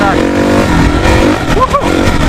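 A two-stroke dirt bike engine revs up on public riding land near a jump, its whining tone rising briefly under loud, close voices.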